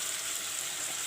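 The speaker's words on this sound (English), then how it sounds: "Let the masalas fry." Masala spices, with red chili powder and turmeric, frying in a pan before chana goes in, a steady soft sizzle without pause.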